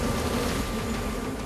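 Honeybees buzz at an apiary of neatly lined yellow hives, their busy wingbeats making a dense, steady drone. The buzzing is close and continuous, with no talk over it.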